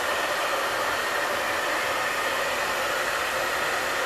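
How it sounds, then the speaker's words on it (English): An Express Ion Dry Plus blow dryer runs continuously at close range, a loud, steady airy whoosh with no change in level and no talking over it. "Now this blow dryer, the Express Ion Dry Plus, it has a beautiful LCD display."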